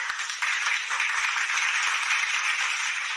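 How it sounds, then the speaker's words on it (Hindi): Children clapping together for a classmate during a home tuition lesson, a steady dense patter of hand claps held at an even level for a few seconds before cutting off abruptly. "सब लोग तालियां बजाओ"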